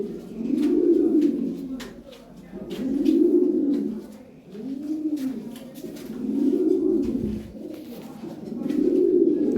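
Racing pigeons of imported Belgian stock coo in a steady series of five low, rolling phrases, each swelling and fading, close and clear with no talk over them.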